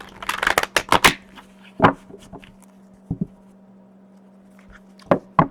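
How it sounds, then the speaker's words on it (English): Several quick riffling snaps of a card deck being shuffled, followed by scattered soft taps and clicks in a quiet room. "Shuffle the deck one more time."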